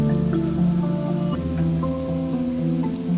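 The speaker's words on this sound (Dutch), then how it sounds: "De regen krijgen we nu uit de hemel, we hoeven geen water te geven." Rain falls steadily in an urban garden, a dense patter of drops on surfaces running loud and close throughout without any voices.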